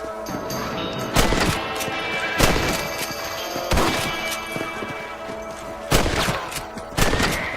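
Rifle shots in the Red Dead Redemption video game, with several loud, sharp cracks spaced a second or so apart over a steady, busy background of game ambience and hooves.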